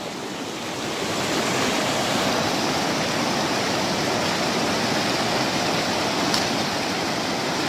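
Cold mountain stream water rushes loudly and steadily in Jabori Valley near Mansehra, a continuous close roar that fills the scene from start to finish.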